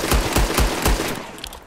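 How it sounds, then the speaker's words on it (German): Rapid hip-fired gunshots from the video game Red Dead Redemption 2: a fast volley of loud, punchy reports within about a second, followed by a fading reverberant tail, with no talking. "Die Zeitmessung beginnt mit dem ersten Schuss und endet mit dem sechsten Schuss."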